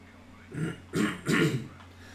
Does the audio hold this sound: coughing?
yes